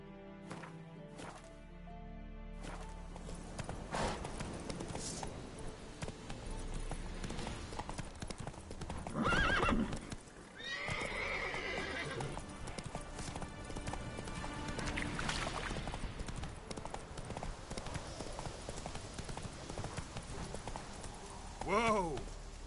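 Horse hooves clip-clopping in a fast gallop in The Witcher 3, steady and close under game music, with a brief neigh partway through and another near the end, and voices speaking over it.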